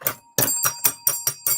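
A handheld bicycle-style bell rung during a podcast recording, six sharp metallic rings in quick uneven succession, loud and close, with no voices over it.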